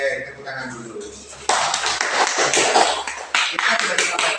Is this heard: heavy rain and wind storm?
no